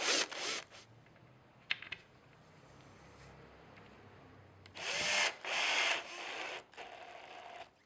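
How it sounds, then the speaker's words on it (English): A small power drill makes pilot holes in the back of a furniture panel: several short, close, high-pitched whirring bursts separated by quiet pauses, with light handling noise between them. "Use the indents on the back of the panel as guides for drilling pilot holes for the buttons."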